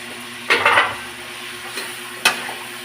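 String beans fry in a pan with garlic, onion and tomato under a low sizzle, broken by a few scraping stirs of a utensil against the pan.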